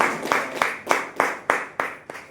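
An audience at a business talk claps in unison, with loud, sharp beats in a steady rhythm about three times per second, close and without speech.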